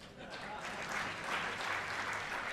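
An audience breaks into applause during a speech, a dense wash of many hands clapping that holds steady and fairly loud from start to finish.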